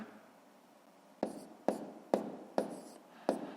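A pen writes figures on paper while a column multiplication problem of 3.6 times 4.5 is set down, giving five distinct scratchy strokes at a steady pace, close and fairly quiet, with no talking.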